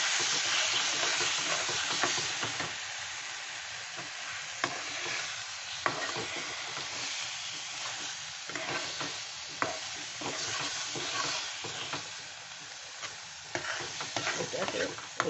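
Thick apple kalakand mixture is stirred in a kadai as it dries, with a soft continuous sizzle and hiss broken by intermittent scraping and clicking strokes of the spoon against the pan.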